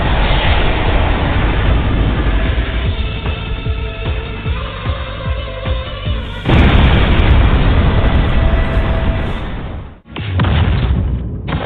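A huge explosion in an anime action scene roars loud and sustained, with a rumbling blast that swells again partway through, then cuts out briefly before resuming.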